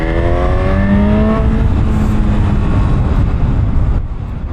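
A 2025 Honda CB1000 Hornet SP motorcycle engine in sport mode, heard close and loud as a rising, revving roar with climbing tones early, settling into a steady drone before dropping off near the end.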